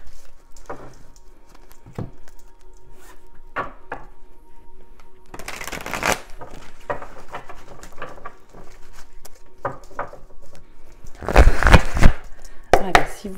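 Oracle cards being shuffled by hand, giving soft papery riffles and taps that build into two louder flurries of brisk card shuffling, close by with no talk.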